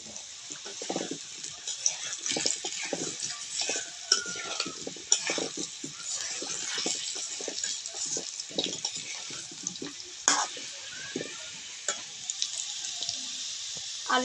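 Potato pieces fry in hot oil in a home kitchen, a steady soft sizzle broken by scraping stirs, close by and fairly quiet, with no talk.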